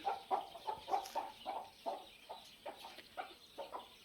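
Free-range village chickens on a small Marathi poultry farm cluck steadily in a rhythmic series of short, evenly spaced calls, close by and moderately loud, with no talking over them.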